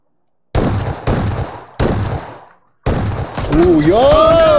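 Bursts of automatic gunfire in the battle-royale shooter PUBG, three loud rapid-fire volleys separated by short pauses, then more shooting under a rising whistling or whining tone near the end.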